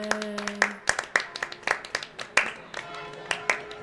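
Scattered people clap at a mock royal wedding celebration, sparse irregular handclaps rather than full applause, with a sustained tone at the start and a voice speaking briefly over it.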